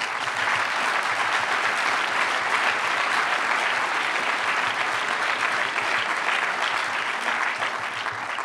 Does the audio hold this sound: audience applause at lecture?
yes